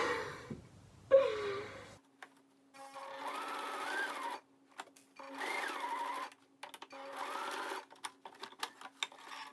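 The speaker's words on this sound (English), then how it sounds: "I think we're ready to start some of the sewing." A sewing machine stitches corset top pieces in several separate runs of steady whirring, close and clear, broken by short pauses with faint handling noise and a soft breath near the start.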